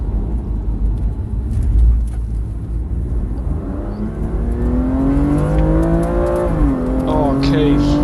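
A BMW M2 Competition road car lapping Sandown raceway, its engine droning loud and steady from inside the car, then climbing in pitch under acceleration through the gears, with a shift break near the end.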